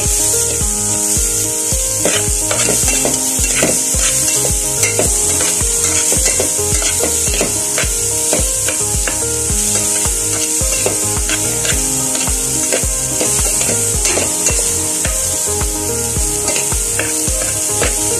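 Garlic and onions browning in a pan, a loud continuous sizzle with busy rhythmic scraping and rubbing of a utensil against the pan throughout.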